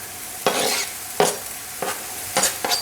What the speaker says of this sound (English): Okay, our bacon is diced. We're going to add our bacon.